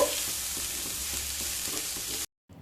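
Chopped onion, ginger and green chili sizzle steadily in a hot pan over high heat, a continuous close hiss of frying that cuts off abruptly near the end with no talk.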